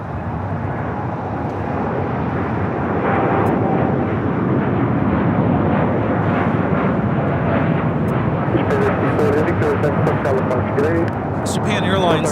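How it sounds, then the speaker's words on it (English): Japan Airlines Boeing 787-9 Dreamliner taking off from Los Angeles LAX, a steady broad jet roar lasting throughout, fairly distant, with a commentator's voice over it and brief clicks near the end. "Japan Airlines Flight 69 taking off to Osaka on the 787-9 Dreamliner"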